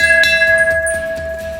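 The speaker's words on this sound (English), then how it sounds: "not before you ring this bell in triumph" A single bell strike rings out loud and clear, its steady tone lingering and slowly fading.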